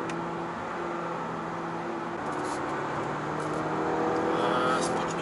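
A Honda Accord 1.5 turbo engine accelerating hard in sport mode, heard as a steady engine drone that climbs slightly in pitch and builds in loudness toward the end, with a voice talking over it.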